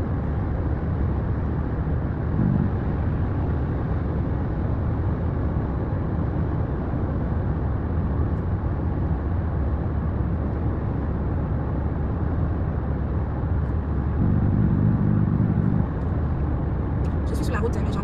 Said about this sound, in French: Je suis sur la route, les gens. Donc je conduis en même temps.